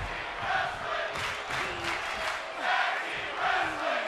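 A sold-out arena crowd at the Richmond Coliseum roars and cheers during a WWE 2K23 SmackDown season premiere match, forming a loud continuous wash of noise that swells in waves.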